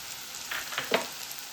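Chopped onions frying in hot oil for a dried-fish and spinach dish, with a faint sizzle and a few soft stirring scrapes, no voices.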